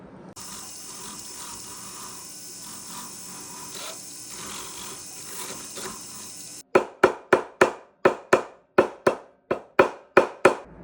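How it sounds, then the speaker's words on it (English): A steady rushing hiss gives way to sharp, rhythmic rasping strokes close up, about a dozen in a row, a small file worked against a metal ring band. "we're going to do a little bit of filing and sanding and then getting the band to the right size"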